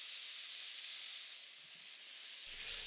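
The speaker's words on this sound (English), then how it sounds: "Sear the meat quickly over high heat" Chicken sears in a hot nonstick pan over high heat, giving a steady, close sizzle and hiss of frying meat with no talking.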